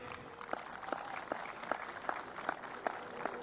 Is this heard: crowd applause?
yes